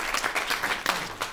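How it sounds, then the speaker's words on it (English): Audience applause at a talk on New York State budgets at Wagner College, a brief burst of dense hand clapping heard from a moderate distance. "So I think we should give him a round of applause."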